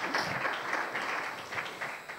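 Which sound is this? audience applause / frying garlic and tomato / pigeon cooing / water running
audience applause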